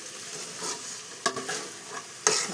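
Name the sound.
stirring and mixing a batter for guggillu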